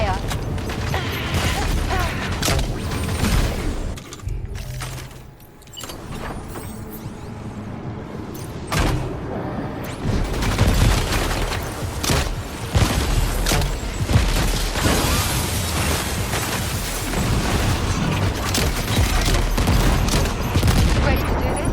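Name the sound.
gunfire in the video game Death Stranding 2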